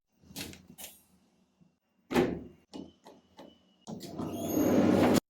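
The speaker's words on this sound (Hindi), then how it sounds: "दरवाजे डरावनी आवाज करते हैं" A door creaks and knocks through several short bursts separated by silent gaps, ending in a longer, louder grinding sweep.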